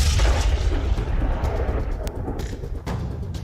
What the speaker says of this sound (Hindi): हमले के बाद पेट्रोल पंप में भीषण विस्फोट हुआ और धू-धू कर जलने लगा।